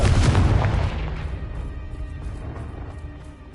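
Confringo explosion spell in a Hogwarts video game: a heavy, booming blast right at the start, then a long rumbling decay that fades over several seconds, with no talking.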